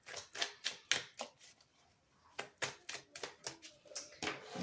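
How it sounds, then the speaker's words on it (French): Tarot cards from a Django deck are laid out one after another on a table, producing a soft series of close, crisp slaps and flicks with a brief pause midway, and no talking. "On va recouvrir avec le tarot de Django."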